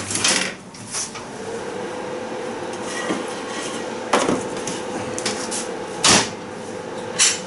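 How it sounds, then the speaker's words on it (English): A tray of roast potatoes comes out of a hot oven, with a few close clunks and metallic knocks from the tray and oven door over a steady background hum. "I'm just going to take them out of the oven"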